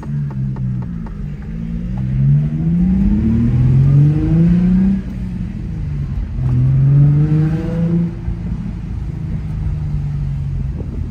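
An Infiniti G35 with a muffler delete, blast pipes and the resonator kept rumbles from inside the cabin, revving up through rising gear pulls in two strong bursts with a deep, droning exhaust note.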